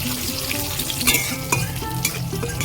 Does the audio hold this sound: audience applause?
no